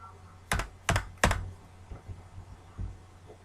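Computer keyboard typing during data entry in an Excel spreadsheet: three crisp, close keystrokes in quick succession, then a few softer taps, quiet and without speech.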